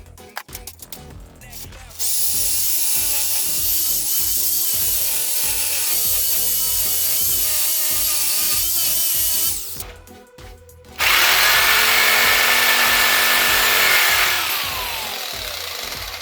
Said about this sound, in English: round over edge here. We'll try jigsaw.